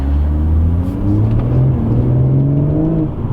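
A BMW M140i with an M Performance exhaust roars loudly and continuously, pitch rising and falling through several rev sweeps as it drives past close by.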